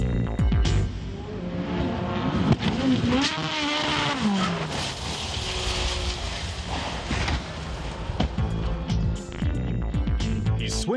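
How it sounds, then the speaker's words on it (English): A drift car at about 200 km/h on a practice-grooved course roars past with revving engine and tire noise, then loses a tire and crashes amid continuous loud mechanical clatter and thuds. "He swings into his drift at 200 kilometers an hour, but his tire gets caught in a groove in the course created by the practice runs and snaps right off."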